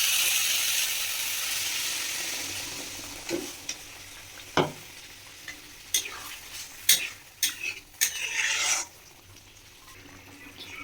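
Vegetables are stir-fried in a pan for a home meal: a soft sizzle runs steadily underneath while a spatula scrapes and clinks against the pan in a burst of irregular strokes midway, then the sizzle settles.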